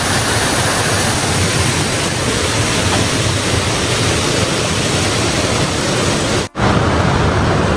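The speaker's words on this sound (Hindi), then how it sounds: "यहाँ पर पानी का बहाव बहुत तेज है" Fast-flowing mountain water rushes steadily as a loud, continuous broadband roar, close by and alone, with a brief dropout near the end.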